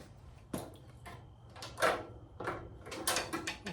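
Metal clips for the aluminum outer window scraper are pushed into slots in a 1972 Super Beetle door, giving a series of close, soft clicks and knocks against the door panel with no talk.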